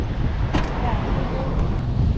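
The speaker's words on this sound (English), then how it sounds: "it's so windy" Strong wind buffets the microphone outdoors beside a parked car, a steady broadband roar with low rumbling gusts that never let up across the short stretch.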